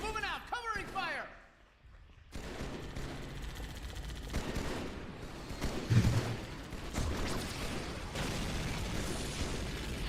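Covering gunfire in a Warhammer video game mod, a dense continuous clatter of shots and bursts with rumbling low impacts, running under a voice that talks over the battle.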